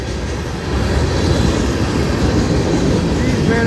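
A Florida East Coast Railway manifest freight train rolls past, a loud continuous rumbling roar of wheels and cars that swells after a quieter opening and holds steady throughout.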